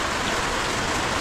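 Constant heavy monsoon rain hiss, loud and unbroken, like a downpour drumming on a nearby surface.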